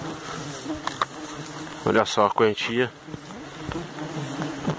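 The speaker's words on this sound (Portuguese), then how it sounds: "Pelo zoom zoom zoom vocês podem estar escutando" Borá stingless bees buzz steadily inside a bait box, a close, continuous hum with a louder burst midway as a person speaks briefly over it.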